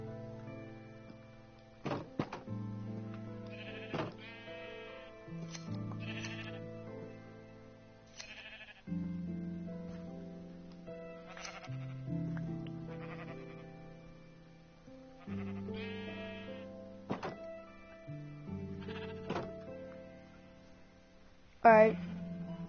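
Sheep bleating in the Minecraft video game while being sheared, a series of short tonal bleats spread across the clip over game background music, with a louder bleat near the end.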